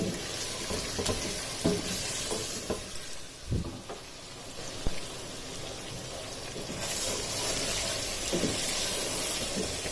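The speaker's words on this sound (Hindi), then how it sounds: "अब चिकन को ऑयल में तकरीबन 5 से 6 मिनट तक अच्छी तरह फ्राई होने देना है।" Chicken fries in hot oil with a loud, continuous sizzle and occasional stirring clatter, close up and steady throughout.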